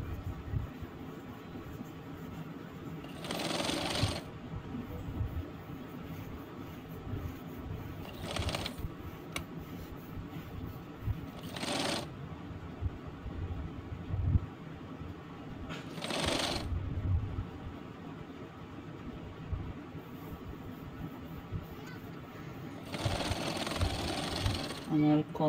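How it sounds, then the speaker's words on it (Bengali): A sewing machine stitches a shirt collar in several short whirring bursts spread across the stretch, close but moderate in level, with a person talking quietly in the gaps between runs. "আমি একইভাবে আরেক সাইড সেলাই করে নেব।"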